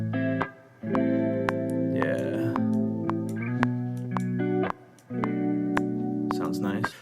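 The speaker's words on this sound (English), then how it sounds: "I'm just gonna add a little bit of reverb to the actual sound itself" A looping R&B music sample with sustained tones and sharp percussive hits, soaked in a smooth Soundtoys plate-style reverb that lingers between phrases.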